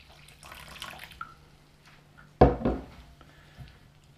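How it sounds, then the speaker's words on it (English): Warm water poured into a bowl of flour for pizza dough, a short splashing gush after quieter kitchen handling sounds, close and brief with no talking. "I'm going to put in 350ml"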